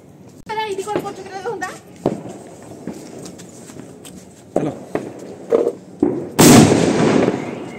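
A firecracker bursts with one loud, sharp crack near the end of a New Year celebration in a village, after scattered knocks, while people talk nearby.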